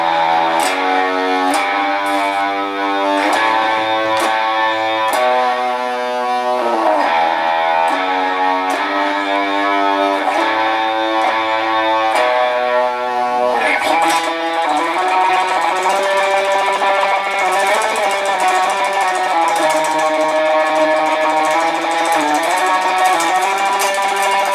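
Electric guitar plays the opening part of a song alone: a fast, repeating galloping riff with clear sustained notes, steady in level and close, shifting to a denser phrase in the second half.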